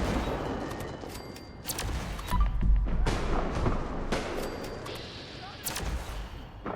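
Plasma caster fire in Fallout 76, a string of heavy, booming shots with thumping impacts and crackling bursts, loud and dense against a noisy game backdrop with continuous low rumble.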